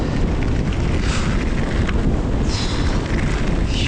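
Loud, constant wind buffeting the microphone while riding a mountain bike trail at Trexler Nature Preserve in Pennsylvania, a thick roaring rumble with gusts swelling near the end and no talk.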